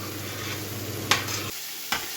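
Grated carrots roast in desi ghee over medium heat for gajar halwa, making a close, steady sizzle with two sharp stirring scrapes, and a low hum that drops out partway through; no one talks.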